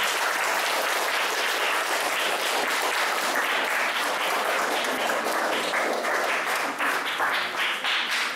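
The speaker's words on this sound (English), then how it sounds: "these young ladies and young gentlemen would like to give their parents and caregivers and supporters a round of applause" Young ladies and gentlemen applaud their parents, caregivers and supporters, a loud, sustained roar of many clapping hands that stays dense and even throughout.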